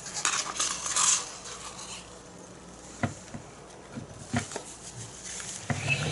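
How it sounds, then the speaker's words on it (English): A palette knife scrapes and clinks against a container while scooping pouring-medium paint cells, with a few soft metallic taps and scrapes spread sparsely over quiet background. "Let's take with a palette knife some of these cells and put them in here."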